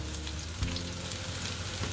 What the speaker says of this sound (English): Give those onions a nice little stir there.